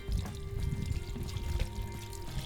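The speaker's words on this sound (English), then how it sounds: "I'm gonna run some water over it just to see if we can clean it off some." Water runs from a tap over a de-anodized aluminum BMX hub, a steady splashing pour with a low rumble, fairly close and moderately loud, with no talk.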